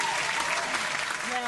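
A podcast audience bursts into dense, continuous applause for the guests, with cheering voices mixed into the clapping throughout.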